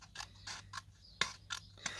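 Several crisp snipping cuts of bronze-coloured scissors through paper, about six short bursts in a steady rhythm, close and fairly quiet with no talking.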